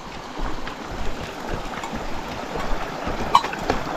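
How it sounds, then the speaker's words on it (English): A small, shallow mountain creek in northern British Columbia flows steadily nearby, a continuous broadband rush of water with no voices over it. "Little creek to cross here."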